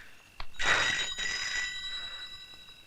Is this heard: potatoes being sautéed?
no